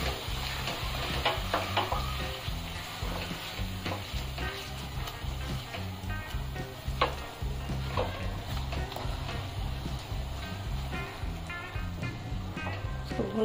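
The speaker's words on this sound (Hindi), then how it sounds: "फिर टमाटर को भून लेंगे एकदम पक जाए, जब तक एकदम ऑयल छोड़ दे अलग हो जाए तब तक इसको भूनेंगे खूब अच्छे से" Tomatoes frying in oil in a pan for a bottle gourd keema dish, a steady close sizzle with repeated scraping and stirring strokes throughout, no voices.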